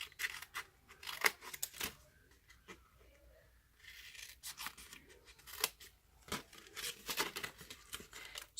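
Scissors cutting diagonally through craft material for an Easter basket: a quiet, close run of repeated crisp snips and rustles, coming in uneven bursts with short pauses and no talking.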